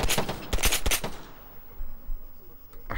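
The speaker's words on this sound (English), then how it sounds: "Someone's shooting at me." Burst of rapid gunfire in the military shooter Arma 3 on the Altis Wasteland map, several sharp loud shots in the first second, then a quieter lull with scattered distant pops.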